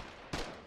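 A single sharp artillery shot fires in Foxhole, a broadband crack and short decaying tail standing out over a quiet background.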